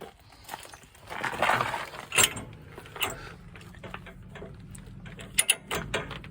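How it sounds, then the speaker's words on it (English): A ratchet wrench clicks in short, quiet bursts while working on a Unimog transfer case, with scattered metallic ticks and clanks over a low background hum. "All it took was a few ratchets on that thing."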